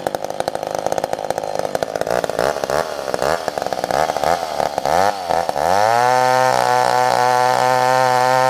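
A vintage chainsaw, a Mac 1010 with a 28-inch bar or an old Husqvarna 55, bucks firewood with loud, uneven rasping bursts. The engine then settles into a steady, loud roar that holds to the end.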